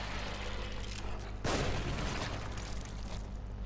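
A single gunshot critical hit in The Evil Within bursts into a sharp, explosive boom that decays into a rumbling tail, standing out over a low background of game ambience.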